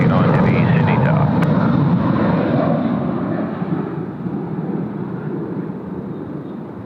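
A jet airliner roars in on arrival at Sydney Airport, loud and broad at first, then slowly fading as it passes, with air traffic radio and commentary speech heard over it.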